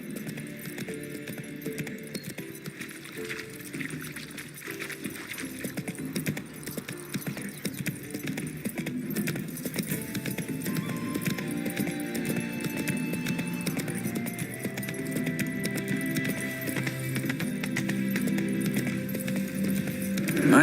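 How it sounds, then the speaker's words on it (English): Roach, the horse in the video game The Witcher 3, trotting with a steady rhythmic clip-clop of hooves under a continuous bed of game music and ambience, moderately loud throughout. "Spooking my horse."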